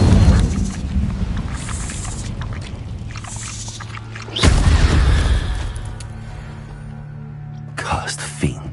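Incendio fire spell blast in Hogwarts Legacy, a loud booming whoosh that flares up and decays over a couple of seconds, with other game impacts around it and a voice speaking.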